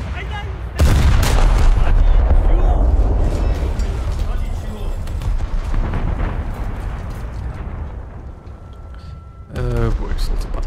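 A battleship's main guns fire a heavy salvo in a naval combat game, a sudden loud boom that rolls and decays over several seconds, followed later by another burst, with a voice talking underneath.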